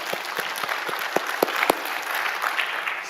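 A burst of church congregation clapping during a worship service, many hands striking in quick irregular rhythm, fairly close and steady for a few seconds with no talking.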